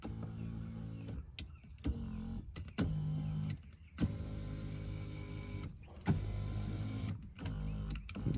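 Electric power seat motor in a truck whirring in repeated short runs, each buzzing hum lasting about a second or more and separated by brief clicks and pauses as the seat moves forward, back, up and down.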